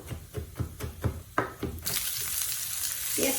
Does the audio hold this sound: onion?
yes